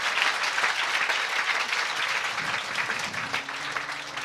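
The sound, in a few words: congregation clapping hands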